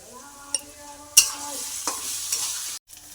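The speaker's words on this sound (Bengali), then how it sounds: "এবার ডিমটা এর সঙ্গে দিয়ে ভালো করে কষিয়ে নেব, যাতে ডিমের কাঁচা গন্ধ না বেরোয়" Egg being stirred with spices and garam masala powder in a hot pan, a close frying sizzle under sharp spatula knocks and scrapes, ending abruptly in silence.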